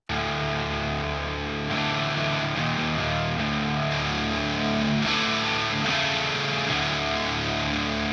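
Electric guitar played through a player's very first guitar amp, heavily distorted with a high boost, giving a gravelly, blown-out tone. Sustained chords ring out one after another in a continuous, loud stretch.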